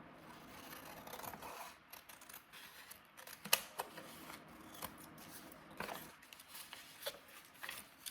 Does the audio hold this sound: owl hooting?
no